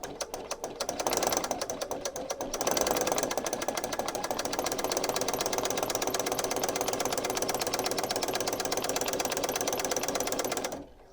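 A sewing machine fitted with a specialty circle-stitching presser foot runs steadily while sewing a circle, a fast continuous mechanical whir and rapid needle clatter that starts after a brief pause and stops abruptly near the end, with no talk.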